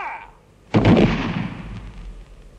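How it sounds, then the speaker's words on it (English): A British Army firing party on the Western Front in the First World War fires a single sharp rifle volley at an execution, the crack ringing out loudly and then fading in a long echoing tail. "Firing party."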